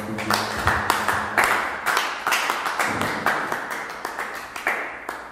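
A church congregation claps steadily in a regular rhythm as it acclaims the Lord, loud and close, with voices underneath the clapping.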